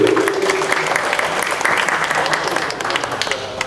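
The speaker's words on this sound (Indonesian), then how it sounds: "Tepuk tangan dulu" Loud, steady applause from a high school theatre festival audience in Wonogiri, Indonesia, a dense wash of clapping that continues without pause and eases off slightly at the end.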